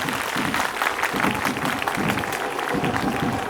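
A crowd at a Shiv Mahapuran religious gathering in Rohna Kala, Chhindwara claims steady, dense applause, many hands clapping loudly and continuously across the whole stretch, close and enveloping.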